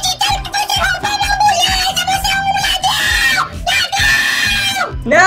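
Shrill, sustained screaming from a child character in GTA 5, loud and close, rising and wavering in long wails over a rhythmic pulsing beat, with brief breaks between cries and the screams climbing sharply at the end.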